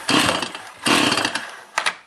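A small chainsaw-type engine is pulled over with a spark tester attached, giving two loud, broad bursts of cranking noise about a second each, then a brief third pull near the end.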